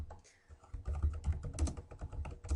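Rapid typing on a computer keyboard, dense clattering keystrokes in an irregular stream, close and fairly loud, with no talking.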